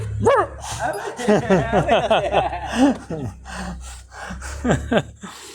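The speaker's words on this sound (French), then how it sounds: "Arrêtez d'aboyer" Several dogs yip and bark in excited, overlapping bursts close by, with whining pitches rising and falling, over a low steady hum.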